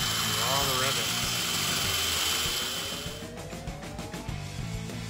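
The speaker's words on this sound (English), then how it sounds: "Pilot hole followed by a larger size steel drill bit." A steel drill bit bores out rivets on the rear C-channel chassis of a Toyota Land Cruiser BJ60, a steady close-up whine with shifting pitch, then a rougher grinding stretch as the bit bites through the metal.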